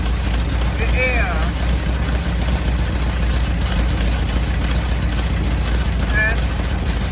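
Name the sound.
old VW Beetle engine idling during carburetor adjustment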